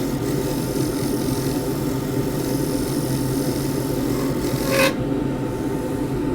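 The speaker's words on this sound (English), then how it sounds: "drop the speed, and use a shear scrape" Shear scrape on a wood-turning lathe at reduced speed, a continuous close rasping scrape over the low hum of the spinning lathe, ending abruptly near the close.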